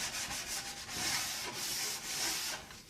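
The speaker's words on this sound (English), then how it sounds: "wrap it around just a scrap piece of wood, like 150 grit probably, and then I ease these edges over" Melamine shelf edges are hand sanded with 150 grit sandpaper wrapped around a scrap wood block, making a loud, close, continuous gritty rubbing in rhythmic back-and-forth strokes.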